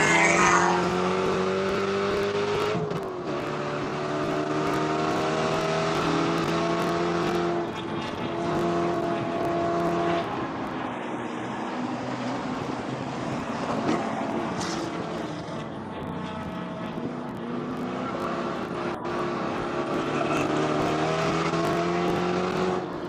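Spec Corvette race cars roar along a racetrack near the drag racing timing tower, engines droning and rising in pitch as they pass, a continuous loud blend of several cars at once.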